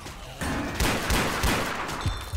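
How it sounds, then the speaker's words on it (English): Dense, continuous booming blasts and rattling gunfire from a Left 4 Dead 2 zombie shooter game on the Parish campaign, loud and chaotic throughout the short burst. "What are these explosions?"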